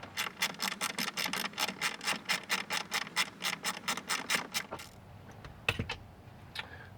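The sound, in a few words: removing T20 Torx screw from Mercedes control knob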